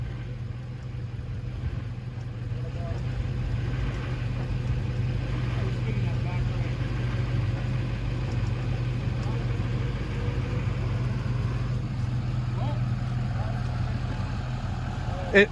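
A stuck Chevy truck's engine idles and runs under light throttle while being winched out, a steady low drone throughout with faint background noise.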